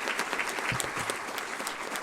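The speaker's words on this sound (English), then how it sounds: "Let's give him a round of applause." Steady applause from a small audience at a city council forum, dense clapping throughout at moderate volume with a brief voice murmuring beneath it.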